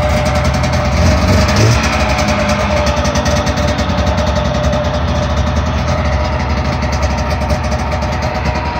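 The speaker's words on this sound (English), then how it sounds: "Better give her enough throttle." Off-road vehicle engine on a trail, revving and running steadily with a loud, continuous rumble throughout, close by, with no voices.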